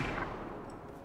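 A sniper rifle fired in Battlefield 4, one sharp shot that fades into a rolling echo over a second, with no talk.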